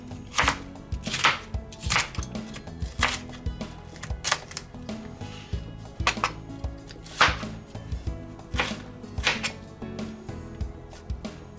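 Vegetables, peppers and onions, being chopped for a chicken panini, a steady run of close, sharp knife strikes on a cutting board with irregular rhythm and no talking.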